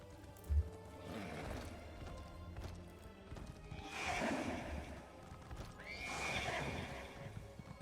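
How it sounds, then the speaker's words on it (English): A horse whinnies loudly twice, with a low snort and clip-clopping hooves in between, over quiet background ambience, in the video game The Elder Scrolls Online. "My poor horse is not happy about the treatment I'm giving him."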